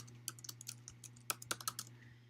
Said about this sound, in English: if I go over and I click on images and I type in something that I'm looking for